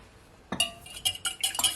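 An egg is cracked into a bowl for Jamaican pancake batter, giving a sharp tap followed by a rapid series of close, bright clinks against the bowl.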